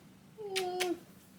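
A single short, clear meow from a cat that dislikes cuddling, close and fairly loud against a quiet indoor background.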